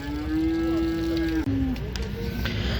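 Cattle at a livestock market: one loud, close, drawn-out moo holds steady for over a second before a short second moo, with a noisy market murmur underneath.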